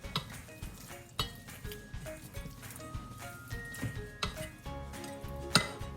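Ingredients for lasagna cupcakes being mixed in a bowl, with irregular clinks and knocks of utensils against dishware, close and fairly crisp, with no speech.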